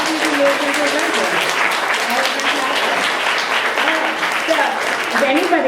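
A town hall audience gives the presenters a dense, steady round of applause that holds at full strength throughout, with voices audible faintly underneath.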